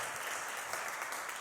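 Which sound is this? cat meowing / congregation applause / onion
congregation applause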